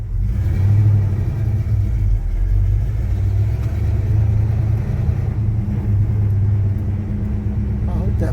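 A Chevy C10 pickup truck with a 4-speed drives slowly. Its engine gives a steady, loud low drone from inside the cab with slight rises and dips throughout.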